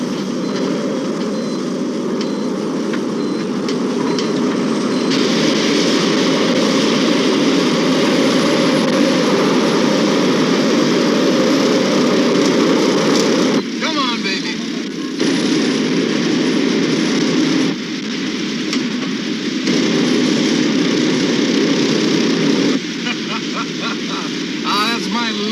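Rocket liftoff in a science-fiction audio drama: a loud, sustained broadband engine roar that holds steady for most of the span, with a few brief drops and shifts in texture near the end, accompanied by voices speaking.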